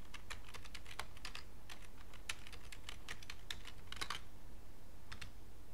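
Someone types a password on a computer keyboard, producing a steady run of close, quick key clicks over a few seconds with a short pause near the end and no talk.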